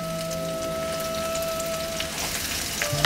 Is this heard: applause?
no